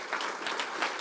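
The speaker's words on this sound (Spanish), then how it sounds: "Denle un aplauso fuerte a Jesús." A church congregation claps for Jesus during a sermon: a brief, dense burst of applause with a few distinct claps, close and fairly loud.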